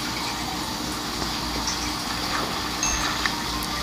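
River water rushing in Minecraft Pocket Edition, a loud continuous gushing wash that stays even throughout, with no voices.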